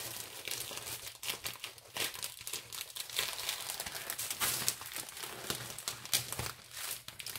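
Plastic parcel packaging crinkles and crackles as it is torn open by hand, a dense run of close, irregular rustles and crunches lasting throughout with no talk.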